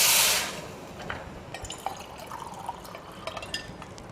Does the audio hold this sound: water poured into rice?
yes